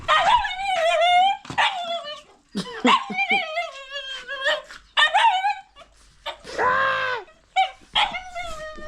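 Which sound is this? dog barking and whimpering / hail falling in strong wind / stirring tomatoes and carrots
dog barking and whimpering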